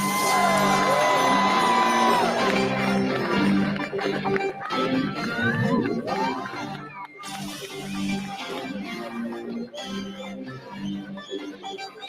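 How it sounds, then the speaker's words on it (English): A Miss World final audience whoops, cheers and claps at the 72nd pageant, a loud sustained crowd roar with shouts and music-like tones woven through. "keep that cheer going. Let's put our hands together. Give a huge round of applause"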